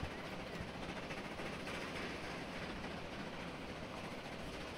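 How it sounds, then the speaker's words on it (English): A train in the game Transport Fever 2 rolls along its tracks, a steady, faint rumble with a light clickety-clack rhythm that holds even throughout. "Oh, look, we got a train going."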